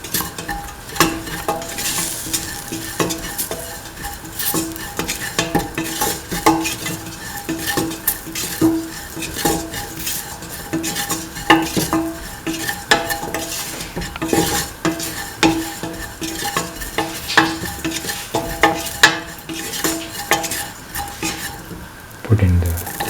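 Potatoes being sautéed in a pan, with a steady sizzle of frying under frequent scraping and stirring clatter of a utensil against the pan, continuous and close.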